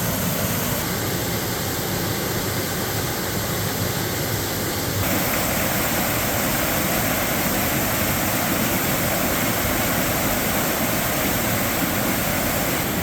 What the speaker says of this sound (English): the turbulent waters at Laurel Run along the Audubon Trail